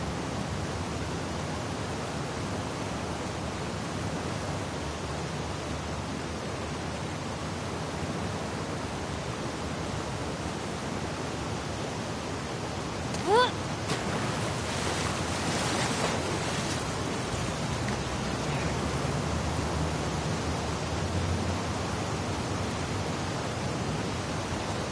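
Waves and water current surge around a swimmer in The Last of Us Part II, a steady broad rushing wash throughout with a brief sharper splash burst near the middle, moderately loud and without talk.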